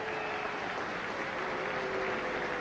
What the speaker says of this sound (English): The crowd applauds politely